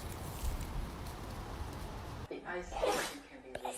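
A pet sneezes in a quick burst indoors, close and fairly loud, following a stretch of steady background noise, with people talking around it.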